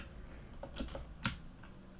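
A few soft keyboard key presses clack in a brief irregular cluster, close and fairly quiet, with no talking.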